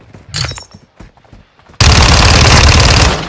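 Gunfire in Call of Duty: Modern Warfare multiplayer on the Kunstenaar District map in Kill Confirmed mode: a few scattered shots, then a loud sustained automatic burst close up that runs to the end.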